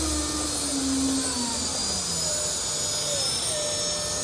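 A CNC router spindle on an EasyRoute machine spins at an overridden speed, giving a steady high-pitched whine with a slowly gliding tone, continuous and fairly close.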